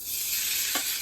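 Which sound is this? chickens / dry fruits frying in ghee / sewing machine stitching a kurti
dry fruits frying in ghee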